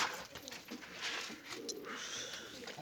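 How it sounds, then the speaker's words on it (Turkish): Pigeons cooing in a newly built coop, a steady soft murmur of overlapping coos from several birds at close range, continuous throughout with faint background noise. "Diğer kümesteki kuşları da buraya getirdim arkadaşlar biliyorsunuz zaten."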